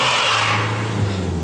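Front-wheel drive Jaguar X-Type on an icy slope, its engine held at a steady, moderate rev with the clutch dipped, a continuous close drone with a faint scrabbling edge and no talk.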